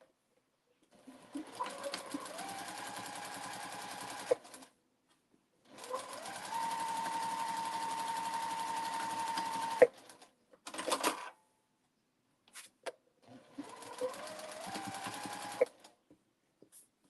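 A sewing machine stitches the seams of a fabric memory bear in four steady runs of rapid, even whirring, each stopping abruptly, with brief clicks and pauses between and no talking.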